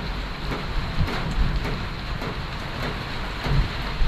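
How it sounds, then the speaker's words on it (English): Rain falls during a muddy mountain bike ride as a dense, steady hiss with scattered patters and light thumps, close and constant, no talking. "Here comes the rain."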